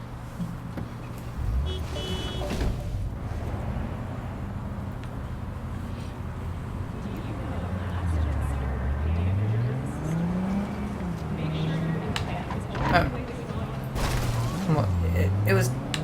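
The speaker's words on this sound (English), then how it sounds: "Ow, I got hit by my own car." Car engine in Cyberpunk 2077 hums steadily with rising and falling revs, while people talk throughout.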